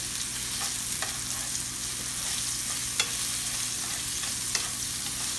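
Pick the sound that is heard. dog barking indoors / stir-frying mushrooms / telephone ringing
stir-frying mushrooms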